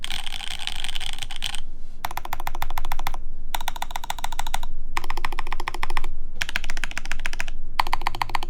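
Fingers type quickly on a mechanical keyboard fitted with GMK keycaps on a Stellar 65 build, a dense close clatter of keystrokes in bursts separated by brief pauses.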